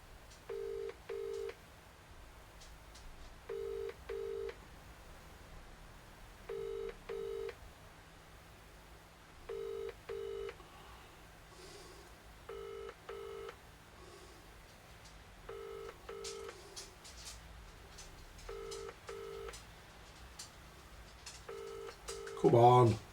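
A phone call rings out unanswered: repeated double-burst ringback tones in a steady rhythm through a handset for over twenty seconds, fairly faint, with background room noise and a brief louder burst at the end.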